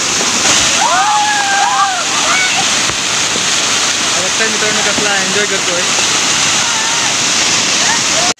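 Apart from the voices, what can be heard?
waterfall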